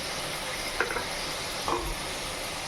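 Whole garam masala spices with cardamom, cloves, cinnamon and about five peppercorns frying in oil, a steady close sizzle with a couple of brief louder spits as spices hit the pan.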